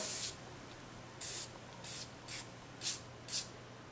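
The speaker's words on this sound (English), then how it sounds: "we're just going to spray a little of this on here" Six short hissing bursts of spray from an aerosol can, separated by brief pauses, close and fairly quiet.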